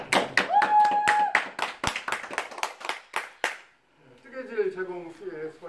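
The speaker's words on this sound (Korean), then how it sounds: "박수 한번 부탁드립니다" Audience applause at a talk in Korean, a burst of scattered, fairly close hand claps for about three seconds that fades into a speaking voice.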